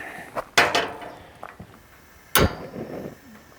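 A metal pan set down onto a Camp Chef Pro 60X two-burner camp stove outdoors, giving two sharp clanks about two seconds apart with a few lighter knocks between, close and fairly loud, no talk.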